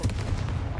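A Confringo fire spell blasts in Hogwarts Legacy, a dense, booming burst with rumbling low-end impact sustained through the short moment, loud and close with no talk.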